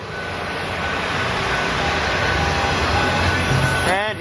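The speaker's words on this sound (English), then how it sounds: "So there's the train Holiday Pacific Canadian right there." The Canadian Pacific Holiday Train rolls past, giving a loud, steady, close rumble and roar that holds evenly throughout and swells slightly near the end.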